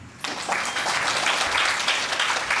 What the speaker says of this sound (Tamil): ஐயாக்கு ஒரு கைத்தட்டல் கொடுக்கணும்.